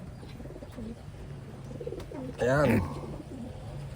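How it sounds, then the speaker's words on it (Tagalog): Large checkered pigeons give soft, low cooing that runs throughout, swelling briefly into one louder call, with a person talking nearby. "mga kalapatids ito."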